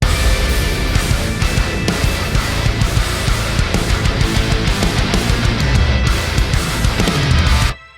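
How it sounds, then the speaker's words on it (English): A loud, dense distorted electric guitar riff played continuously with heavy low end, stopping abruptly right at the end. "So with this guitar, the riff sounds like this."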